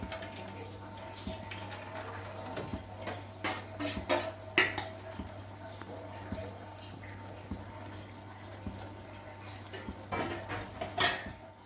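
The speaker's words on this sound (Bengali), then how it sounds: "এবার ভালো করে নাড়ি সারিয়ে নিয়ে আমি ঢাকনা দিয়ে ঢাকা দিয়ে দেবো" Mutton mince and peas being stirred in a pot before a lid goes on for a Bengali restaurant-style dish, giving soft clatters and scrapes of utensil on metal, with a couple of louder knocks near the middle and end.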